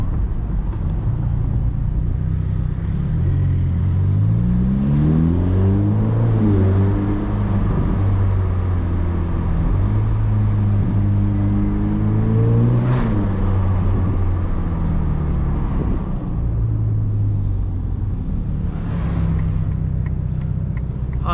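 A 2021 Ferrari Roma driven through the City Walk area in Dubai, its engine heard close and steady, revs climbing repeatedly through gear changes with a brief surge near the middle, no talking over it.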